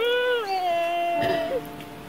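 A cat gives a single drawn-out meow, loud and close, with a rising then falling pitch, heard alone without talk.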